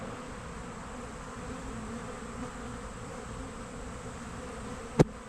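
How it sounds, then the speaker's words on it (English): Bees buzz continuously around a branch, a dense close hum from many insects, broken by one sharp brief knock near the end. "Look at all the bees just on landing on that branch just to clean themselves up before flying home."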